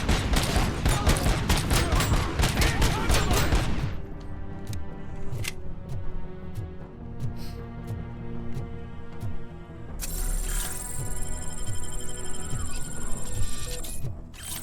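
Rapid bursts of gunfire in the video game RoboCop: Rogue City, a dense fusillade for the first few seconds, then scattered mechanical clicks and thuds over a low game hum.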